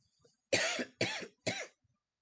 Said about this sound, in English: When I hear you cough, it just makes my brain, like, you know what I mean?